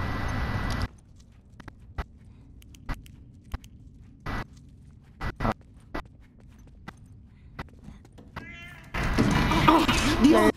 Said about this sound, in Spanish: Maldito gato.